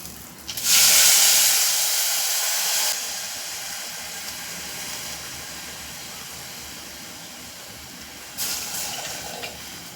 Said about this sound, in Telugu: దీనికి డబుల్ క్వాంటిటీలోన మనం వాటర్ వేసుకోవాలి